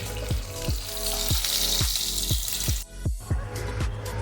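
Pieces of katla fish sizzle in hot oil with a dense, loud, continuous frying hiss, punctuated by a regular series of sharp low knocks, close up and with no voices.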